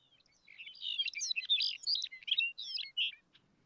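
A bird sings a rapid warbling song of varied chirps and trills, clear and fairly close, alone against near silence.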